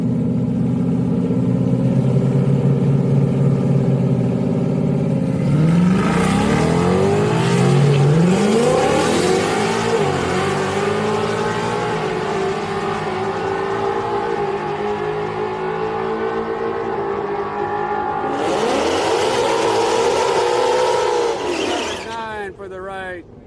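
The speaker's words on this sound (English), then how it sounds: "Out here watching some street cars." Street cars drag racing at Houston Raceway Park on a Friday street night, with loud engines revving and roaring past in several waves, tires squealing, and a crowd and announcer talking throughout.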